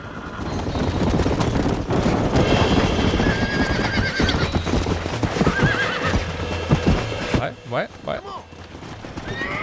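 A horse in the video game Red Dead Redemption whinnies and neighs over quick galloping hoofbeats, loud and close, with a voice speaking briefly over it.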